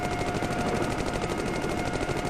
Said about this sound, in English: the gunfire is okay for the limited amount there is.